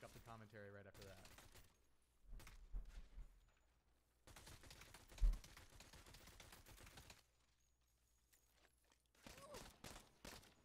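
Bursts of gunfire from the Saints Row video game come in scattered volleys and single shots between quiet gaps, fairly faint in the mix, with a voice speaking at times.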